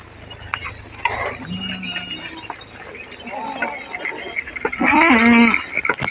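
Goats and sheep of a shepherd's flock call out with several bleats, one longer wavering cry near the end, over outdoor background noise with faint clinks.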